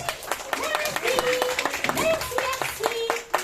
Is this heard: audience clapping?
yes